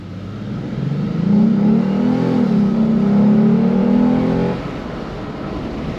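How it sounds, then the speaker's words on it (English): A Lexus IS250/350 F-Sport fitted with a cold air intake accelerates, giving a loud, deep, throaty engine drone with a faint intake whistle that rises steadily for about three seconds and then drops back to idle. "You get that nice little whistle from a cold air intake on light acceleration, and it's actually extremely throaty"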